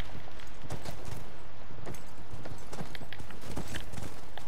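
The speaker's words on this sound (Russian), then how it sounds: "Идем к лошадям." Horse hooves clip-clop in The Last of Us video game, a steady run of sharp clopping steps at close range over a constant low background rumble, with no talk.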